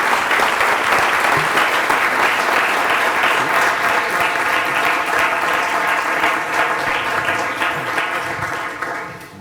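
Sustained, loud audience applause fills a large hall at the 2019 Princess of Asturias Awards ceremony, a steady dense clatter of many hands that holds for several seconds before tapering slightly near the end.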